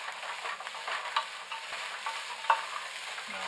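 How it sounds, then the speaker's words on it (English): Chopped celery stirred into chili in a pot, faint low sizzle with a couple of light spoon scrapes and clicks against the pot. "Stir it together."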